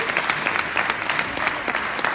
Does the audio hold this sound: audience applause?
yes